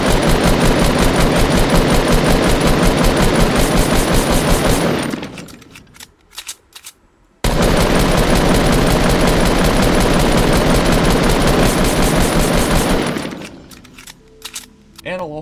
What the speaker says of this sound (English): Go ahead and play the showcase video that I have right here of the recoil being too high on the standard assault rifle.